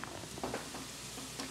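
Onions frying and sizzling in a pan as they caramelize, a steady crackling hiss with faint stirring scrapes, close and continuous.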